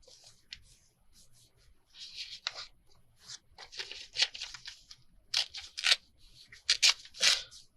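Scissors snipping through paper while making journaling pockets, a series of close, crisp cuts and rustles in irregular bursts, growing louder toward the end, with no talking.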